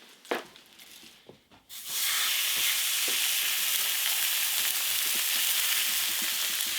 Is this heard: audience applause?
no